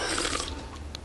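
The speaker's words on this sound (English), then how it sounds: "We're having a burp contest, Mom." A long, gurgly cartoon burp during an animated burping contest, loud and continuous for about a second, trailing off with a small wet pop at the end.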